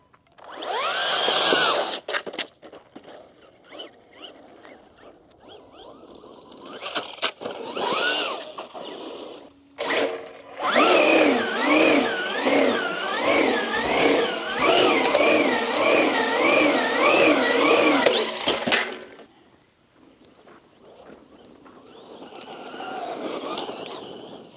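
A Traxxas Jato 4x4 RC car running on a 4S battery over dirt lets out a high, whining motor rev that rises and falls through one long, sustained run, with shorter bursts before and after and no voices.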